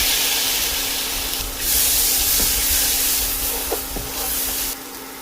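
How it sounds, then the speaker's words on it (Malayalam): A sudden surge of hissing and sizzling as chopped tomatoes are dropped into hot frying spices in a pan, then steady frying with a few utensil clinks. "അതിലേക്ക് അരിഞ്ഞു വെച്ചിരിക്കുന്ന തക്കാളിപ്പഴം ചേർക്കാം"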